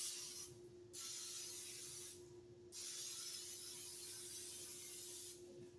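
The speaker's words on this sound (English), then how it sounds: "and I'm gonna spray." Cooking spray hisses onto a preheated waffle iron in two or three short, close bursts of broadband spray, each about half a second to a second long, over a steady faint electrical hum, with no talking.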